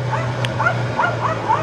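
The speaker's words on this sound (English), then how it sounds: "That's been replaced by the barking dogs." Several dogs barking in quick repeated yips and woofs, a steady rhythmic series at moderate distance over a low background hum.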